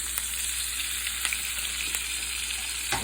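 A flounder fillet pan-fries in butter with fresh thyme, a steady close sizzle with small pops and a couple of sharp clicks near the end.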